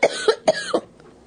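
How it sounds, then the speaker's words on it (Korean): A run of four quick, sharp coughs from a child close by, evenly spaced, trailing off into quiet. "기침을 하며 집으로 뛰어들어왔습니다"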